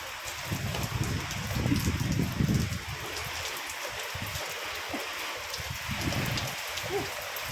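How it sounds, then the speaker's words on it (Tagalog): Steady heavy rain pouring down, a dense continuous hiss with low rumbling patter, no voices. "malakas na naman ang ulan"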